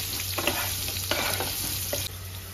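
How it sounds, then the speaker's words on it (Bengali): Potato pieces with salt and turmeric crackle in hot oil as they are stirred, with a steady sizzle broken by several soft scraping strokes of a spatula through the pan. "এবার আলুটা একটু ভালো করে ভেজে নেব।"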